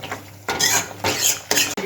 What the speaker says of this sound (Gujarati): ફ્લેમ તમે હાઈ રાખજો અત્યારે અને કોન્સ્ટન્ટ ચલાવતા રહેજો જ્યાં સુધી ઉકાળ ઉકળી ના જાય ત્યાં સુધી કોન્સ્ટન્ટ ચલાવજો